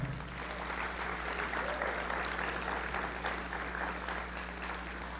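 Audience applause at a sports hall of fame ceremony, following a Polynesian dance class performance: steady, dense clapping sustained throughout at moderate level, with a low steady hum underneath.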